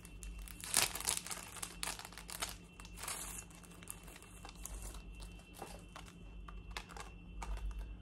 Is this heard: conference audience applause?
no